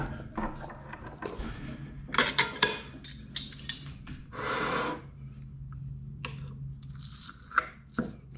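Crispy Thai pork omelette, khai jiaow mu, being cut with cutlery, giving close scattered crunchy crackles and scraping clicks against a plate, with breathing and a soft background hum between the bursts.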